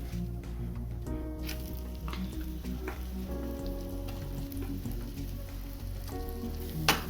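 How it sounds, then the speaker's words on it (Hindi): Peas sizzle steadily with spices in a hot pan, a continuous close frying hiss with scattered spatter and occasional scraping stirs, no voices. "चलिए अब अच्छे से भून लेते हैं इसे, मटर को मसाले के साथ।"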